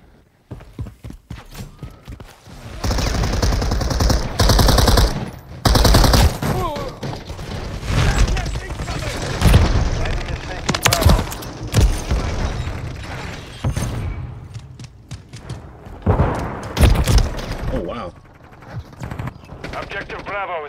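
Rapid gunfire rattles through a Call of Duty: Modern Warfare 3 multiplayer match in dense automatic bursts and heavy booms, loud and close, with game announcer voice lines mixed in.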